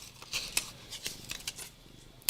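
Scissors snip through paper in a series of soft, irregular cuts, quiet and close, with a cat nearby in a home crafting setting.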